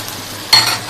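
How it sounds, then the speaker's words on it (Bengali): Dried lotkey fish and onions frying in a pan: a quiet background sizzle, then a sudden loud scrape and burst of crackling as the mixture is stirred, with no talking. "লটকি সটকিগুলো ভালো করে ভাজা হলে"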